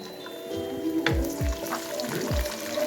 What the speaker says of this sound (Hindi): इसके अंदर हम इसको ऑयल के अंदर फ्राई करेंगे